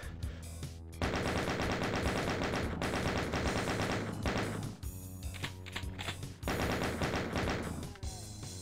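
Rapid chain gun fire from Doom (Plutonia 2) plays as a loud, continuous stream of shots over game music. It pauses briefly near one second and again near five seconds.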